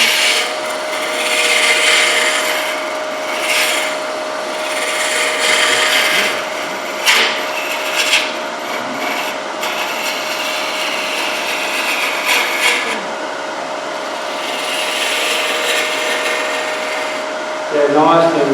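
Hand tool shaving across a decorated wooden box, a steady close rasping and rubbing scrape that runs almost unbroken with small bursts and shifts in stroke, under a faint constant hum.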